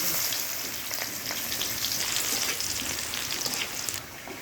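Garlic and dried red chillies fry in hot oil with a loud, close, continuous sizzle and bubbling crackle that eases slightly at the end.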